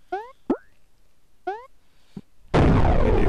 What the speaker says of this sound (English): Get the explosion.